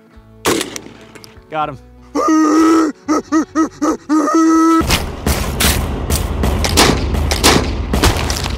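Loud gunshots from a gun once used to fight communists, fired at trash being thrown at an outdoor range, come as a rapid string of sharp bursts after a short spoken exchange, with echoing reports and rumble between the shots.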